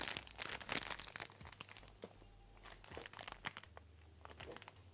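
Thin plastic piping bag filled with whipped cream being crinkled and handled inside a second bag while decorating coffee pancakes, giving close, irregular rustling and crunching bursts that keep going throughout.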